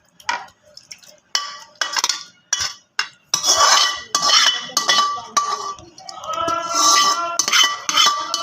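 A serving spoon scrapes and clinks against a metal pot again and again as Lahori chicken is dished out, first in separate clicks and then in a busier run of clatter, close and loud.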